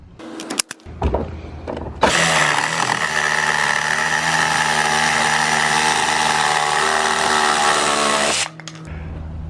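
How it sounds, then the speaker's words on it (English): A cordless rotary hammer runs on a cheap Dewalt replacement battery, giving a loud, steady, buzzing hammering drone for about six seconds before it cuts off, with short bursts of tool handling before and after. "Powers a roto hammer."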